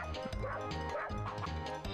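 A dog in a video game yips and barks repeatedly in quick bursts over continuous game music, with a voice murmuring faintly underneath.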